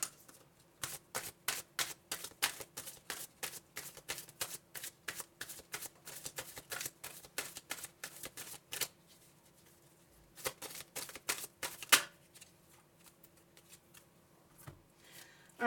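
A deck of tarot cards is shuffled by hand, giving rapid, crisp riffling bursts in quick succession, then a short pause and a few more sharp shuffles, close up and fairly loud with no talking.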